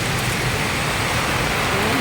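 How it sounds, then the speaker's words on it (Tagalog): Heavy rain pours onto a small nipa hut, a dense, constant roar of drops that fills the whole moment with no pauses or voices. "Malakas ang ulan dito."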